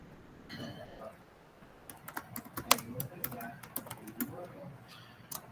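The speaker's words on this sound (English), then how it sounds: "while I'm typing this HTML only" Someone types HTML on a computer keyboard in irregular bursts of sharp clicks and clacks, with a voice talking quietly underneath.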